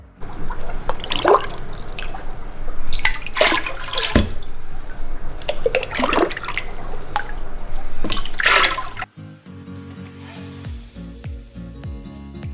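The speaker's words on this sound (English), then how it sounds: "I'm going to add quite a bit of water to this bucket" Water poured from jugs into a bucket holding a live sturgeon, steady splashing and trickling with a few stronger gushes, then quieter dribbling toward the end.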